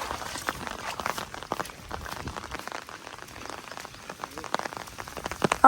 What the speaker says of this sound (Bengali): বড় বড় ঠোপ পড়তেছে